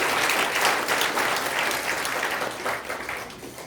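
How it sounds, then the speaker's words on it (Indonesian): An audience breaks into sustained clapping for Prudential, strong at first and then slowly thinning as it carries on for a few seconds, with no one speaking. "Tepuk tangan dong buat Prudential."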